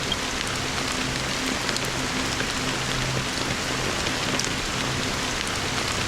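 Steady rain in the video game Honkai: Star Rail, set in Penacony, a dense, even patter of drops falling on surfaces, continuous and loud with no voices over it.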